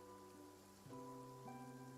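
Steady soft rain falls in Genshin Impact's Fontaine region, a gentle hiss that stays constant under sustained background music tones, with no voices.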